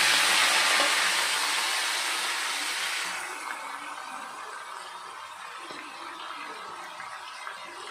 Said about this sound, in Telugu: ఆయిల్లో కొత్తిమీర వేస్తున్నా.